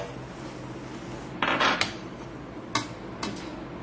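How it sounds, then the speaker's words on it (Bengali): A spoon scrapes and clinks against a pot while an ice cream mixture is stirred, with a few sharp metallic scrapes and taps over a low steady background hum, close and moderately loud. "নাড়তে থাকবে, নাড়তে থাকবে।"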